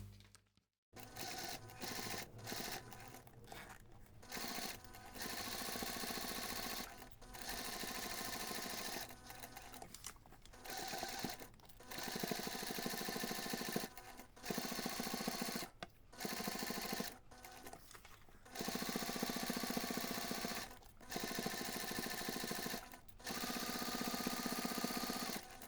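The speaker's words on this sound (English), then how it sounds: "take this to the machine and baste everything together around all 4 sides" A sewing machine bastes around all four sides of a hidden zipper pocket, running in long steady whirring bursts with brief pauses between them, close and continuous over the stretch.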